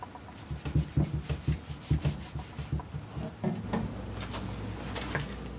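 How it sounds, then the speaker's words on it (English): Steel wool rubs an old finish off wooden furniture in quick, rhythmic back-and-forth strokes, close and fairly quiet, then settles into a steadier, continuous scrubbing. "steel wool works even faster. Takes it right off."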